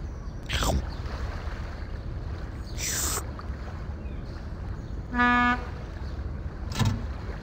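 A rescue boat engine in the video game Tonka Search and Rescue gives a steady, even rumble throughout, with a few brief whooshing sweeps and a short horn-like toot over it.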